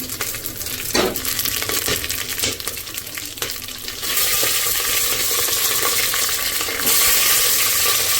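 Hot oil for biryani sizzling loudly and steadily in a pan, the frying hiss swelling as something is added, with a few metallic clinks near the start.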